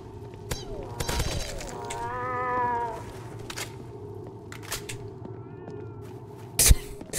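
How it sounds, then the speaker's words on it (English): A drawn-out cat meow in the distance rises and falls once in a Roblox zombies game, among game sound effects, sharp clicks and bangs, with faint talking. "Hear the meow in the distance."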